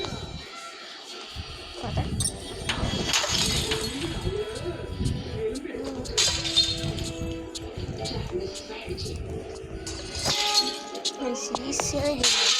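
Glass shatters again and again in a ball-throwing video game, with sharp crashes and tinkling shards scattered throughout, heard under a person talking.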